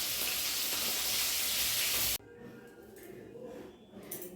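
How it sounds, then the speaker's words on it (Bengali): Fish frying in a pan hisses and sizzles steadily at first, then the loud frying stops suddenly and leaves quieter kitchen noise and faint crackles. "এই মাছটা আর একটু হবে, তো মাছ ভাজাটা হয়ে গেলে শাক ভাজাটা বসিয়ে দেবো"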